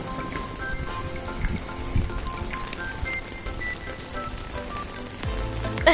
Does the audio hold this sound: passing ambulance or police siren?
no